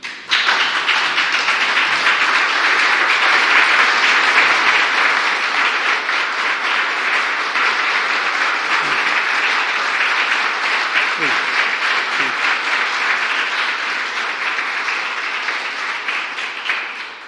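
Sustained audience applause welcoming President Joe Biden at a White House roundtable with Jewish community leaders, a steady loud wash of many hands clapping that holds for the whole stretch and tapers slightly at the end.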